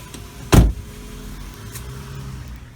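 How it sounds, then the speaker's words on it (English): Power window motor of a 2010 Volkswagen Jetta SportWagen 2.5 SE, a short loud thunk as the glass seats, then a faint steady hum inside the car. "All four windows are automatic up and down."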